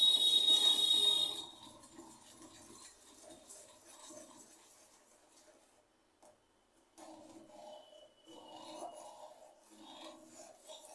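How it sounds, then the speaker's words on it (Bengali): A rice flour sandesh mixture is stirred in a pan over low gas, giving rasping, scraping strokes that are loudest at first, then come in softer intermittent bursts with a brief pause before resuming. "গ্যাসের জোরটা কমিয়ে রেখে নাড়তে হবে।"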